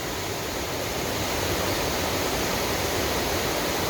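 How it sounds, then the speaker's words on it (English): Steady broadband rush of a waterfall beside the Wilson River Trail, close and constant without a break, with no voices over it. "Really cool waterfall along the road,"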